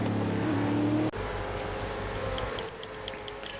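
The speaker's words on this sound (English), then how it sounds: "Let's go watch some of these AI cars go around the track." Supercars AI race cars circle the Winton Motor Raceway in the iRacing video game, a loud engine drone that cuts abruptly and gives way to cars passing at a distance, with faint intermittent high chirps.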